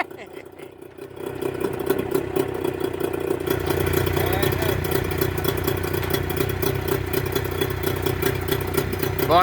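A Mercury 25 HP outboard fitted with Boyesen power reeds runs rough, its steady loud engine drone with uneven clatter starting after a brief quieter opening and holding for the rest.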